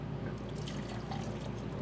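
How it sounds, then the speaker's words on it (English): Homemade allulose syrup pours into a glass measuring cup in a kitchen, a faint, steady liquid trickle with soft dripping and no voices. "I'll pour it into my glass measuring cup."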